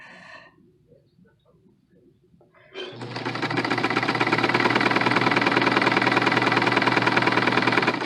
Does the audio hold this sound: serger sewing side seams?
yes